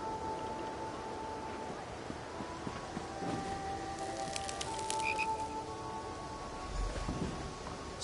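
Frogs croak at the dockside frog races in the Elder Scrolls Online, with scattered chirps and calls over a steady game ambience and musical tones, moderately loud throughout.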